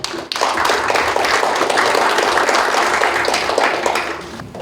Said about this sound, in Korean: 이관율 박사님의 강의를 뜨거운 박수로 맞이해 보도록 하겠습니다